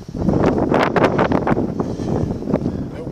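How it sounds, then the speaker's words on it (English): Strong outdoor wind buffeting the microphone in loud gusty rumbles with rustling, continuous and close for a few seconds. "That wind ain't no joke, guys."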